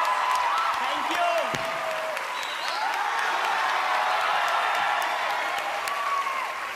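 Audience applause and cheering after an Indian dance group's performance on America's Got Talent 2019, a dense, steady roar of clapping from a large crowd that lasts throughout with a few whistles on top.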